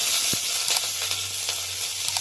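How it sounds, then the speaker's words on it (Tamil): Fennel seeds, ginger, garlic and green chillies sizzle loudly in hot oil in a frying pan, a steady close hiss with faint stirring clicks. "சின்ன வெங்காயம், கருவேப்பிலை நல்லா வதங்கணும்."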